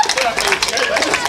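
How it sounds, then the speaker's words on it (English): Outdoor crowd applauding at a truck pull, steady clapping over a short stretch with a commentator's voice mixed in. "he's striding out with a round of applause there for Adam Mills"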